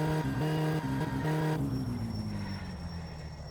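A car in the driving game My Summer Car runs with a steady engine drone that drops in pitch as it brakes and slows after a bridge, continuous and fairly loud, with no speech.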